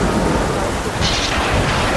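Heavy rain pours steadily in a devotional stage drama, with a rumble of thunder swelling midway through the brief, loud storm wash.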